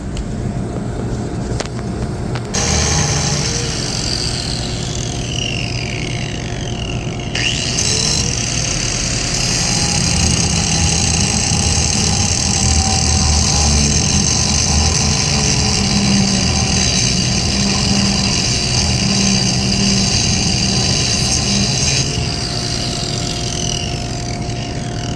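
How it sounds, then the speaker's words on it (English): An angle grinder cuts a wheel off a shaft on an HVAC rooftop unit. A loud, steady, high whine runs for over twenty seconds with a short spin-up at the start and shifting pitch as the disc bites. "So again, I gotta cut this out. Got my grinder."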